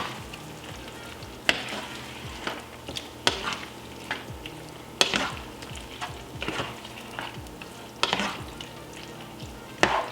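A spoon stirs a zucchini pie mixture in a pan over steady frying sizzle, with repeated scraping strokes and a few louder clanks of utensil against the pan. No one speaks.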